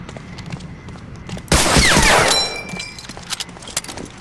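A loud, sharp burst of gunfire in the video game Medal of Honor: Allied Assault rips out for about a second, followed by a few scattered, quieter shots and thuds.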